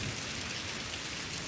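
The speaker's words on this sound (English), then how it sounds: "We're definitely gonna get like an inch of rain out of this" Heavy rain pours steadily during a thunderstorm with lightning nearby, a constant close hiss of drops drumming on surfaces with a low rumbling undertone and no speech.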